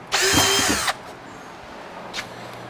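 A power drill drilling pilot holes for mounting screws whines in one loud, close burst of under a second, then quiet, followed by a brief faint whir near the end.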